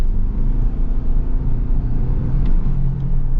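A 2025 Toyota 4Runner, the non-hybrid version, accelerates hard with a loud, steady, deep engine drone and road rumble heard from inside the cabin, and no one speaks.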